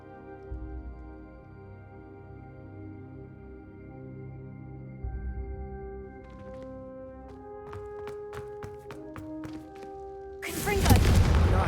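A Confringo spell blast in Hogwarts Legacy, a sudden loud explosive burst arriving near the end after a stretch of quiet tonal game music and scattered clicks.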